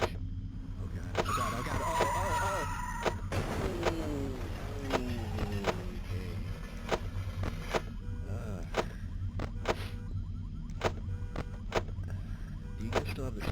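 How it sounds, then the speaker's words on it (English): Game crash in FNAF: a short burst of screeching, skidding tyres and impact noise over steady low engine rumble, followed by scattered sharp knocks and clatter, with voices talking over much of it. "oh wow, that's a pretty nasty crash."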